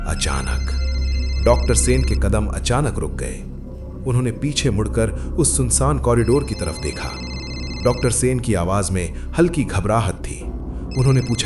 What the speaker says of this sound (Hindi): एक फोन के बजने की आवाज, बिल्कुल क्लियर आवाज